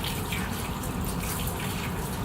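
Filtered water gushes steadily in a continuous broadband rush, loud and close, with no pauses or voices.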